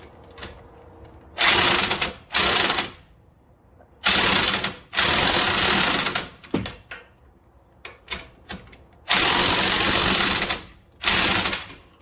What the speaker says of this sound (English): next we'll tighten down those main bolts to the hub.